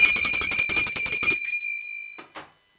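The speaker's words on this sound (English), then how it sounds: "we have to ring the bell." A bell rings rapidly and repeatedly up close, a fast metallic trill that stops and leaves a ringing tone fading out, then one final faint ding.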